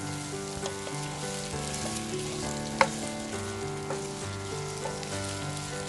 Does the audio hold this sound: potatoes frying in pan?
yes